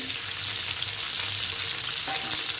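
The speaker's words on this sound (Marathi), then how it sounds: "आता मी हे भाजून घेते बघा" Stuffed squid (calamari) roasts in a pan with a dense, steady frying hiss that fills the whole clip and stays loud and close with little change.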